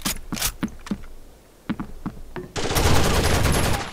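Scattered single gunshots in the video game Rainbow Six Vegas, then from about two and a half seconds a sustained burst of rapid automatic fire, loud and close, with no talking.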